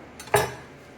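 A knife slicing through a raw vegan wrap: one short crisp cut with a faint scrape just before, then quiet.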